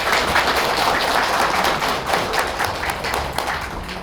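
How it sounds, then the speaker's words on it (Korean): An audience at a lecture in Daejeon applauds, a dense, steady patter of many hands clapping at close range for about four seconds, tapering slightly toward the end with no voices over it. "여러분 실천할 수 있도록 박수 한번 주세요."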